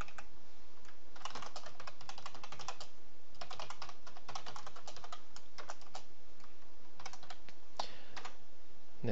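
Rapid typing on a computer keyboard during a programming session, bursts of close, crisp key clicks separated by short pauses, with no voices.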